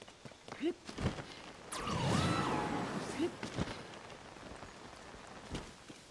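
Steady rain patters on the ground in the video game Tears of the Kingdom, a broad soft hiss under scattered louder bursts and a man's occasional sighs and muttering.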